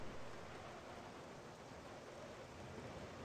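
Steady rain hisses in the Hitman 2: Silent Assassin video game, a dense, even wash of noise with no clear drops standing out, faint and continuous with no voices over it.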